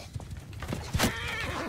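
A horse whinnies in the Mount and Blade 2 video game, a short, faint neigh rising over soft hoof thuds and background battle noise.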